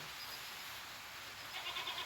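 A young goat gives a short, thin bleat near the end of a brief, quiet stretch of outdoor background noise.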